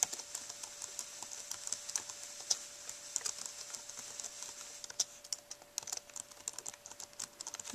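Fingers type steadily on a computer keyboard while entering text in Microsoft Word, giving close, quick clicking keystrokes in uneven bursts over a faint constant hum, with no one speaking.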